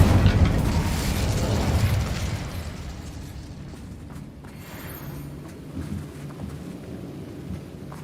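An Incendio fire spell cast in Hogwarts Legacy bursts out loud and near as a rumbling, thunder-like blast that slowly fades into a lingering low roar, with no voices over it.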